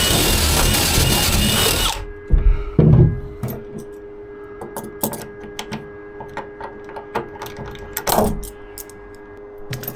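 A power drill runs loudly for roughly two seconds, then falls silent, leaving intermittent clicks, clatters and small mechanical knocks.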